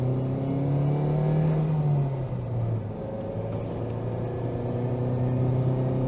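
A Ford Mondeo MkIII 1.8 accelerates hard uphill on a dry road, its engine note rising steadily and droning loudly and close, with a brief dip partway through as it climbs on under full throttle.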